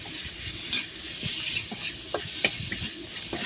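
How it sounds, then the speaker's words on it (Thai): Minced pork sizzles in a wok with curry paste for a pad krapow, a continuous frying hiss broken by repeated scraping stirs and taps of the spatula. "ใส่หมูลงไปผัดต่อนะครับ ผัดจนกว่าหมูสุกนะครับ"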